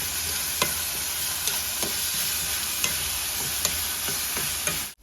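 Chopped onions sauté in oil in a pan, a steady broadband sizzle with faint periodic scrapes of stirring, close and alone with no voices.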